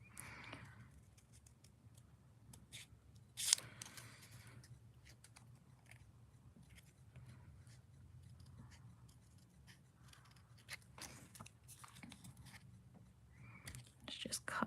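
Scissors snip paper hearts for a handmade Valentine's card, with quiet close cuts and rustling scattered through the clip under soft whispered talk.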